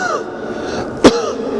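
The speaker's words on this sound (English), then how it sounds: "sometimes if you strike by cold, it's a cough" A single short, sharp cough rings out about two-thirds of the way through, loud and close, against a faint background murmur.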